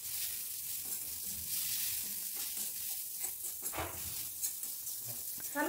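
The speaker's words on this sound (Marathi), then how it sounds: "तेलामध्ये तळला गेला पाहिजे मसाला" Masala seasoned with turmeric and salt fries in hot oil, giving a faint, steady sizzle and hiss with occasional stirring scrapes and soft pops, heard alone without speech.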